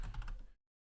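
A quick burst of several computer keyboard keystrokes sounds close and soft, then stops abruptly into silence.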